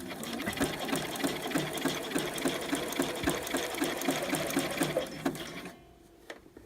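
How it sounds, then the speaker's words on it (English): A sewing machine stitching fold-over elastic onto fabric, running close and steady with a fast, even rhythmic needle clatter for several seconds before stopping, followed by a brief small click. "So let's get sewing."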